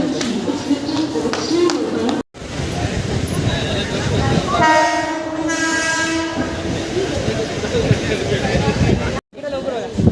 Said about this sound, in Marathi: आपल्याला आता लोकल पकडायची आणि दादर